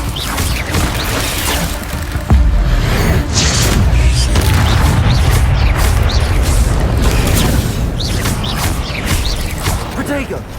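Incendio fire spell flaring in Hogwarts Legacy combat, loud booming bursts and crashing clatter layered over a steady battle roar, with a voice shouting intermittently among the blasts.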